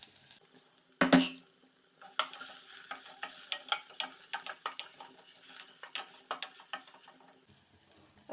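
Ginger garlic paste frying in butter, stirred with a utensil: a sharp clatter, then steady sizzling with repeated scraping and tapping of metal on the pan.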